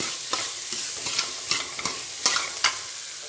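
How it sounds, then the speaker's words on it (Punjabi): A spoon stirs salt through dry tinda (round gourd) curry with fried onions in a pan: rhythmic scraping strokes roughly every half second over a soft sizzle, close up, with no talking. "ਸਭ ਤੋਂ ਪਹਿਲਾਂ ਨਮਕ ਪਾਵਾਂਗੇ ਸਵਾਦ ਅਨੁਸਾਰ ਇਹਨੂੰ ਮਿਲਾ ਲਾਂਗੇ"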